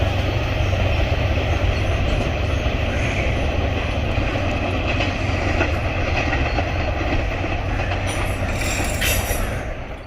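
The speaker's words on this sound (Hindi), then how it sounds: "48 डाउन रहमान बाबा एक्सप्रेस आ रही है और फाटक को बंद किया जा रहा है" The 48 Down Rehman Baba Express thunders through Mandra station in Pakistan at a closed level crossing, a loud, steady rumbling roar of the passing train that holds for about ten seconds before starting to ease off.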